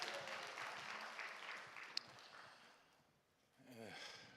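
A church congregation claps together in a dense, moderately loud burst of applause that fades over a few seconds before a voice starts speaking near the end.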